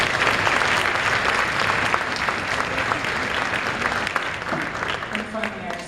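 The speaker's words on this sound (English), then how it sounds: "please give yourselves a round of applause for that" Audience applause at a school winter concert: sustained dense clapping from a crowd, steady and loud throughout, with faint voices mixed in near the end.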